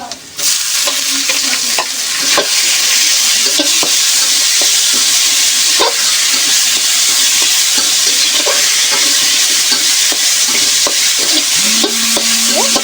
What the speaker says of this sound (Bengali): পেঁয়াজ রসুনটা ভাজা হয়ে গেছে। এবার এখানে সেই সেদ্ধ করা শাকটা ঢেলে দেব।